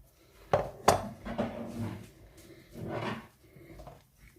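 Grissini dough stirred in a bowl, a few sharp clinks and knocks against the bowl followed by softer scraping and mixing sounds, close and fairly quiet.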